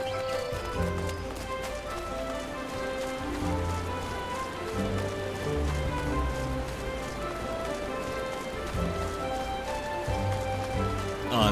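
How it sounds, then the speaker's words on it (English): Rain patters steadily in Final Fantasy XIV while hooves clip-clop along at an even pace, with game ambience underneath. "wouldn't you know it, it's just started raining"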